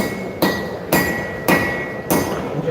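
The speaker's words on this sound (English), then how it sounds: "Doghead hammer, I'm going to come in" A dog head hammer strikes hot steel during knife forging at a live show, four sharp ringing blows spaced roughly half a second apart, close and loud, each followed by a brief metallic ring.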